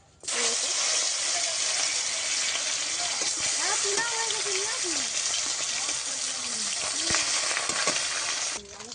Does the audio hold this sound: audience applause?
no